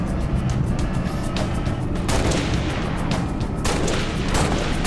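Sticky grenade explosions and gunfire in Halo Reach during a Legendary Sword Base battle: loud, dense combat noise with heavy booms around two and three-and-a-half seconds standing out over continuous firing.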